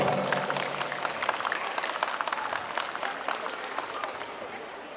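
Guests at a wedding ceremony applaud the groom, a sustained, moderately distant patter of many hands clapping with faint voices underneath.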